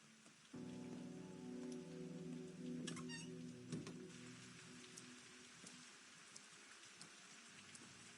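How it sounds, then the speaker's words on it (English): Gentle rain patters steadily on a surface in a video game's rainy morning scene, a soft continuous wash with scattered drops and a few faint game tones layered over it. "A rainy morning."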